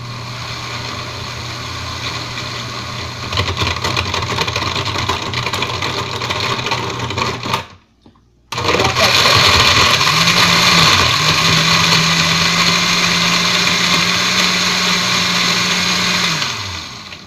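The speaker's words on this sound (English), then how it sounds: "So let's start the blender." A countertop blender crushes ice for a strawberry daiquiri, a loud, steady whirring grind that cuts out briefly midway, then restarts and settles into a smoother, lower-pitched spin as the mix loosens.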